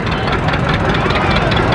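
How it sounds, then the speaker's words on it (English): A John Deere 720 LP tractor, a high-crop wide-front model fueled by liquid petroleum gas, runs steadily at a cotton gin festival, its loud, even engine rumble continuous throughout with faint background voices. "Powerful looking tractor."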